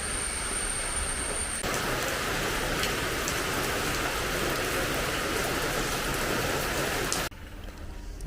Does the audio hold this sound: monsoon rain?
yes